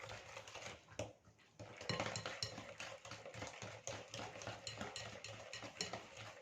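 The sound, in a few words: mixing cake batter in a bowl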